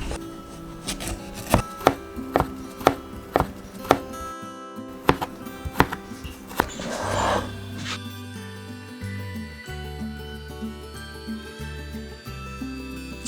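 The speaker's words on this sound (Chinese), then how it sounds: "把青瓜切成丝。" A kitchen knife slices a cucumber into thin strips on a cutting board, making a run of crisp, evenly spaced chopping taps. Softer handling sounds follow.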